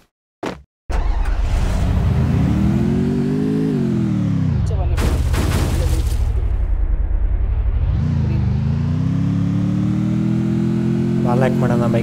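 A motorcycle engine in the Free Fire video game drones loudly and continuously, its pitch rising and falling as it speeds up and slows, with a sharp bang near the start.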